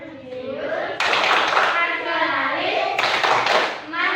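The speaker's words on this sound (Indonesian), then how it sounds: "yuk kita tepuk PPK bareng-bareng" A group claps out a rhythmic school cheer, the PPK chant, in a classroom, hands striking in loud bursts with children's voices chanting along throughout.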